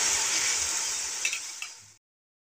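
Potatoes and eggplant frying in oil on a village stove give off a steady, fairly close sizzle with a few faint stirring clicks, lasting about two seconds before cutting to silence.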